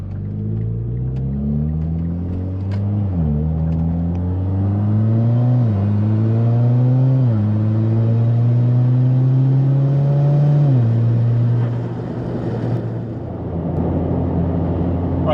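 A Mitsubishi Lancer Evo X accelerates hard through several gears, its engine note climbing and dropping at each shift, loud and steady from inside the car before easing off near the end.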